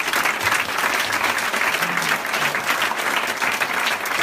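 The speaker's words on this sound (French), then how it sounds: "Est-ce qu'on peut acclamer le Seigneur?" Church congregation at a deliverance service applauding to acclaim the Lord, with steady, loud, dense clapping from many hands that fills the room throughout.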